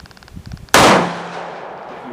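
.44 Magnum revolver fired with a heavy H110 powder load: one sharp, very loud shot that booms and rings out in a long decaying tail, preceded by faint handling clicks.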